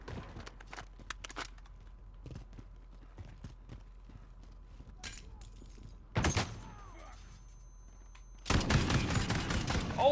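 AA-12 shotgun bursts in Modern Warfare gameplay, a rapid, loud volley near the end after scattered quieter game shots and clatter.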